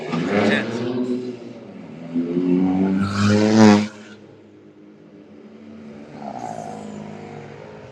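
A parade of loud tuned sport cars passes at night, engines swelling and roaring by close at hand in two strong surges, then fading to a lower rumble.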